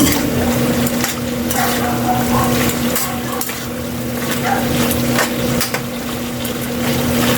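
Pork igado fries in a cooking pan with a constant loud sizzle. A utensil clinks and scrapes the pan as the meat is stirred, over a steady low hum.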